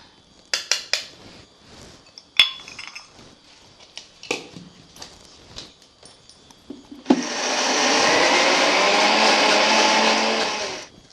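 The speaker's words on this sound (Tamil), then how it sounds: "இந்த தேங்காய் வெல்லம் ஏலக்காய் அப்படி போட்டு அரைச்சிட்டோம்" A kitchen mixer grinder whirs loudly and steadily for several seconds, grinding coconut, jaggery and cardamom into a sweet filling, after a run of clinks and knocks from jars and utensils.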